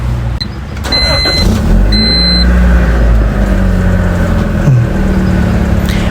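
A car engine started with a smart key, then held at a steady, loud idle with a low rumble and a couple of faint electronic beeps near the start; no revving heard.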